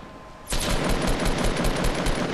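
Sustained rapid video-game machine-gun fire bursts in after a quiet half second and rattles on loud and dense to the end, with no talk over it.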